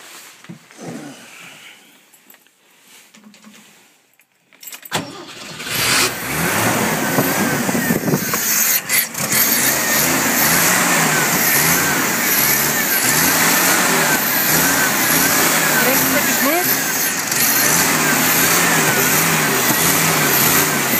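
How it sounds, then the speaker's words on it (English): After a few seconds of near-quiet, a Jeep 258 six-cylinder engine with a bent push rod, a sticking valve and an untuned carburetor cranks and catches. It revs and then runs loud and steady at close range for the rest of the time. "But let's see if the engine starts."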